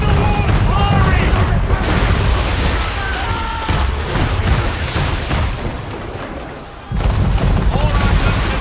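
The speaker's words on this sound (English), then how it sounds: "Man of war's firing!" Cannon fire from a man-of-war warship in Assassin's Creed 3 booms in a dense, continuous barrage at sea, loud and sustained with heavy low rumble and crashing impacts, while shouting voices sound over it.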